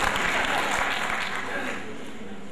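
Steady audience applause at a comedy mushaira poetry gathering, a dense clapping wash from a large crowd that holds for a couple of seconds and slowly tapers off.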